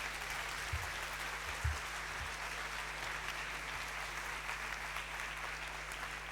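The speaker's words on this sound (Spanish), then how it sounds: "A Ana hay que aplaudir, ¿no?" An audience applauds at a lecture, a steady, even wash of clapping that carries on for several seconds at a fairly low, distant level.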